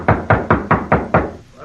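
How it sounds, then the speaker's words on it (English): Six firm knocks on a wooden door in an old radio western drama, evenly spaced and close, then a brief pause with no talking. "Knock again."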